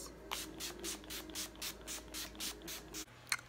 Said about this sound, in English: I'm taking the NYX setting spray and setting my face